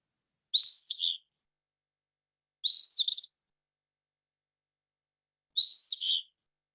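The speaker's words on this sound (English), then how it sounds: "So here's the phoebe very quickly." A phoebe, a flycatcher, gives three short, raspy two-part calls, spaced a few seconds apart with silence between them, clear and fairly close.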